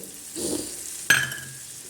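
Greens stir-fried in a pan for fried rice give a soft, low sizzle with a short stirring swell, then one sharp metallic clink of a utensil on the pan, fairly quiet and with no talking.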